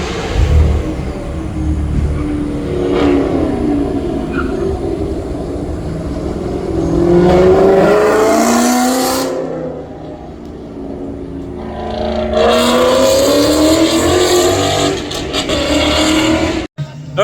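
Porsche cars at an autocross event, loud and close, with engines revving hard and tone sweeping up through accelerations. The roar drops away briefly in the middle and then returns.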